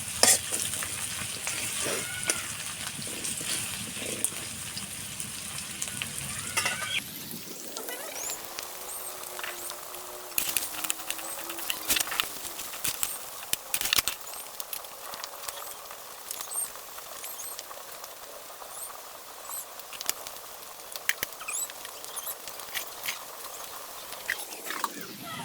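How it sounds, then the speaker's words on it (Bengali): Onions sizzle in oil in a pan, fried until lightly reddish, while being stirred repeatedly, with scraping and patter over a steady frying hiss; the sizzle shifts in tone partway through and continues to the end. "হালকা লালচে ভাব করে দেবো পেঁয়াজটাকে, ভালোভাবে লাড়াচাড়া করে দেবো।"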